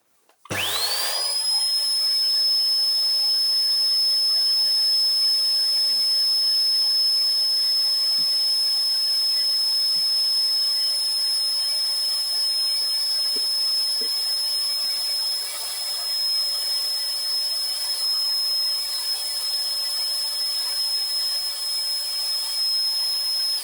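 A Sebo BS360 upright vacuum cleaner switches on and runs steadily, a loud continuous airy roar carrying a high, constant whine that holds without a break for over twenty seconds.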